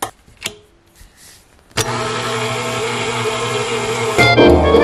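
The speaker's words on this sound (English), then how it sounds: "put it all on the stand mixer" A stand mixer kneading bread dough starts up after a couple of faint knocks and then runs with a steady, loud motor whir that grows slightly louder near the end.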